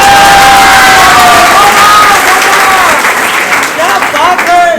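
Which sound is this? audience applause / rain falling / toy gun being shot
audience applause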